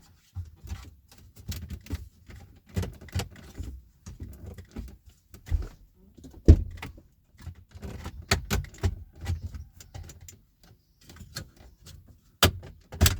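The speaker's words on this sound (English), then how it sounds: "You will feel each clip release with a light popping sound." Plastic dashboard trim clips on a Kia Sportage popping loose as the trim is pried off, a series of short, sharp snaps and clicks scattered irregularly across the span, some louder than others, with quiet gaps between.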